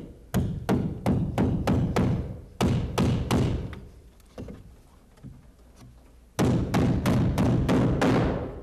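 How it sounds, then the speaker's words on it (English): Hammer striking a nail into brick mortar joints, rapid sharp blows in bursts of several hits with short pauses between, close and clear with no talk. "it will nail into the mortar joints just about that simply"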